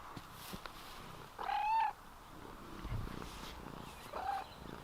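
A cat at a farm garden purrs softly and close by, with two brief, higher chirp-like calls standing out over the quiet background.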